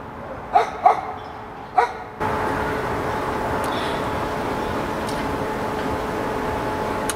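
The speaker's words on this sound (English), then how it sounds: "I feel like if I talk, he's gonna just keep barking." A dog gives three sharp, close barks in the first two seconds, followed by a steady hum of background noise with faint ticks and no further barking.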